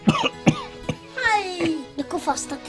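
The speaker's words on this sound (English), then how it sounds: "The cough started again." A person coughs a few times in short, harsh bursts close by, with throat-clearing and some voiced sounds between the coughs.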